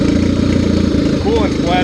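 Honda CRX project car engine, a close rough idle with faint wavering revs, while a person talks over it toward the end.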